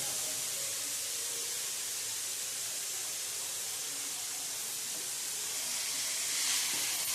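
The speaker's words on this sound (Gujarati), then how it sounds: "અને બધું આપણે સરસ સાતળી લેવાનું છે।" Momo filling sautés in a pan, giving a soft, steady sizzle and hiss that runs unbroken at low volume, with a slight swell near the end.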